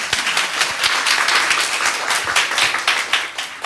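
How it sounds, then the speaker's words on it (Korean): Audience clapping at a Korean church revival meeting, a steady, moderately loud patter of many hands, greeting a ministry leader in a red vest. "박수 한번 쳐줍니다"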